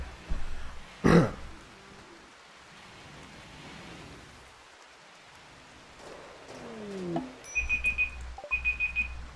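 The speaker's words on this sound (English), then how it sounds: "Oh, that's my timer." A timer alarm goes off near the end, sounding as a series of rapid high electronic beeps in two bursts over steady rain-like background noise.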